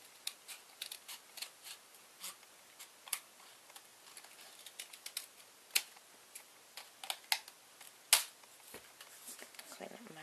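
Scissors snip through a paper plate while a circle is trimmed for a clothespin wreath, giving a run of sharp, close, irregular clicks and cuts, some louder than others, across the whole stretch.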